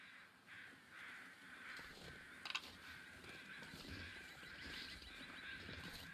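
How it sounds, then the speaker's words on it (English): Crow-like caws from a bird in the snowy wilderness of the video game The Long Dark, repeating faintly over a steady wind-like ambient bed, with one brief sharper call standing out midway. "Ah, this bird sounds really nice."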